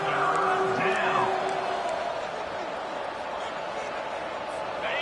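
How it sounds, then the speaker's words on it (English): Stadium crowd roaring in an NCAA college football video game with the Wolfpack defending on a big third down: a dense, steady wash of cheering and whoops that holds throughout, with a commentator's voice running over it. "The crowd elevating its energy, willing this defense to get a stop on this big third down."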